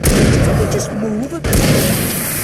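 Gunfire in the action game Alan Wake: loud, sustained shooting bursts with booming blasts and a brief gap midway, dense and continuous throughout.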